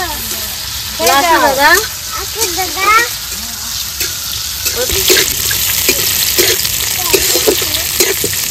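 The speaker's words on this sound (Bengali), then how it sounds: "কাজু কিশমিশ ভালো করে একটু ভেজে নিয়েছি, এবার তুলে নেবো।" Cashews and raisins fry in white oil in a pan, giving a steady, loud sizzle throughout, while people talk and birds chirp in the background.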